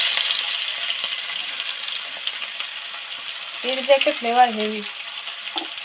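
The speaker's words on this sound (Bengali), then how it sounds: "এবার যে রসুনটা থেতে করলাম সবার সবার আগে রসুনটা দিয়ে দিচ্ছি" Crushed garlic is dropped into hot oil already holding dried chili and a bay leaf for fish curry, giving a steady close sizzle and frying hiss while a voice talks briefly over it.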